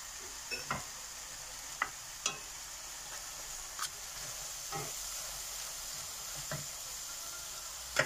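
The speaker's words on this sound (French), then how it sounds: "Le poisson est en train de mijoter." Fish simmers in a sauce thickened with a butter and flour roux in a pot, giving a faint, steady hiss broken by a few sparse soft clicks and bubbles.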